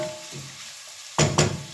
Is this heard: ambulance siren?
no